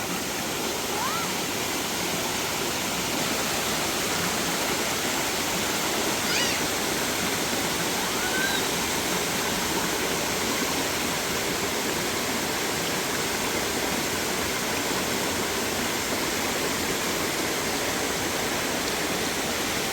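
Rushing water from a waterfall and stream on a canyon hike at Uvas Canyon, a steady broadband roar that holds at a constant level throughout, close and continuous with no clear voices over it.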